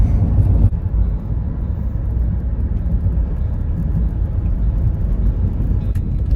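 A car drives along a bumpy road, its interior filled with a heavy, steady low rumble and road roar, with a slight jolt near the start and no talking.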